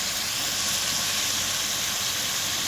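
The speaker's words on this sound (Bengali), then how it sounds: "মশলাটা ভালো করে কষছি।" Spice paste for chicken curry sizzles and fries in a pan in a home village kitchen, a steady close hiss that runs without a break.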